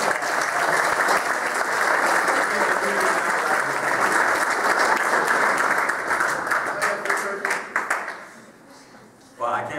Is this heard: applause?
yes